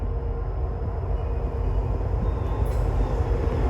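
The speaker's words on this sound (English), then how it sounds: "Okay, there's the train." A steady, heavy rumble of a Norfolk Southern freight train with leading diesel locomotives rolling past close by, constant and loud throughout with no break.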